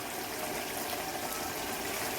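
Hot water pours steadily into a potato curry in a cooking pot, giving a continuous rushing splash that stays alone and fairly loud.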